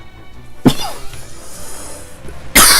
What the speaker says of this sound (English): Oh god, this coughing just needs to stop.